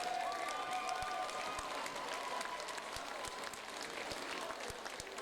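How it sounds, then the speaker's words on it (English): Crowd at a bare-knuckle fight event applauds the fighters after a bout, steady continuous clapping from a large indoor audience with scattered shouts and a brief whistle. "Give him a massive round of applause."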